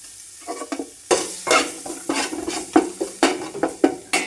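Ginger, green chili and garlic paste fries in coconut oil in a pan while a spoon stirs it, giving repeated scraping strokes over a steady sizzle, close and fairly loud, with no talking.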